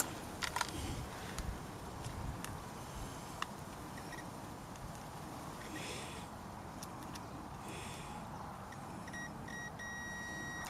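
A continuity tester's sounder, used while checking an electrical connector circuit, gives a few short high beeps near the end over a low, steady background hum. Faint clicks are scattered earlier.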